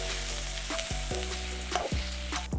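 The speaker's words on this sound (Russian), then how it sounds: "Потом добавляем к нему грибы и еще немного обжариваем." Onions and mushrooms frying in a pan, a steady sizzle broken by a few clattering stirs and scrapes, close up with no talking.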